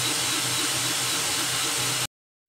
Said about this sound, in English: I made an enclosure for my AnkerMake M5 3D printer, changing the sound levels from something like this